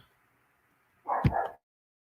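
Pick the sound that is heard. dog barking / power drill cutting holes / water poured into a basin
dog barking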